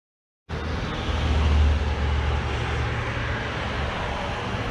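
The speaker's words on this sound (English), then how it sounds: "Excusing the traffic noise," Steady road traffic noise beside the Rhine in Linz, a continuous broadband roar with low rumble swelling early on and holding near and fairly loud, no voices.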